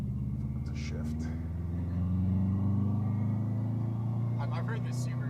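A Subaru WRX engine lugs in sixth gear at low revs, a steady deep drone and rumble that continues throughout with only faint, occasional sounds above it.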